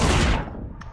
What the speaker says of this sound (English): Fucking shotgun.